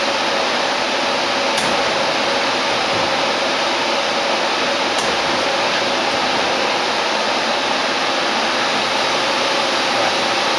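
Steady, loud whirring hiss from the spindle of a brand-new Ganesh ASL10L CNC lathe running at speed, continuous and even throughout with no talking.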